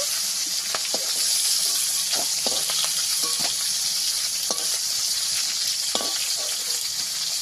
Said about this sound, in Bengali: মাথাগুলোকে একটু ভেজে নেব।